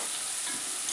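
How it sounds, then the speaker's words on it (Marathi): Onion frying in a hot pan while being stirred, a steady close sizzle with soft scraping running continuously without any talk. "कांदा शिजतोय, कांद्याचा रंग हळूहळू चेंज होतोय"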